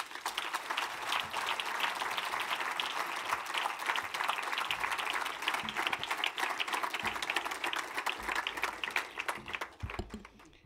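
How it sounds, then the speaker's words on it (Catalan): Dense, steady applause from an audience at a 40th anniversary celebration of the Catalan writers' association AELC, sustained for about ten seconds before tapering off at the end. "Per tant, un gran aplaudiment."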